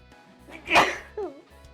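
A single sharp human sneeze bursts out loudly in a quiet room, followed by a brief vocal sound afterward.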